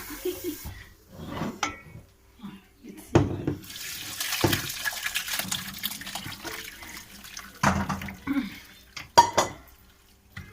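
Water from a pot of dough is drained off in a kitchen: intermittent splashing and pouring bursts mixed with clattering pots and utensil knocks, close and uneven, with brief gaps of quiet between.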